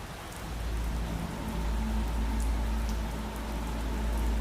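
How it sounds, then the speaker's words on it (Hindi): Heavy, persistent rain pours down at a high-altitude Indian Air Force helicopter base near the Siachen glacier, a dense, loud, unbroken patter with a low rumble underneath and no voices. "यहां कई दिनों से बारिश हो रही है"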